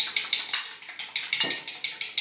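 An egg is beaten in a bowl with a fork, a fast regular clatter of metal against the dish, about six strokes per second, close and loud with no talking.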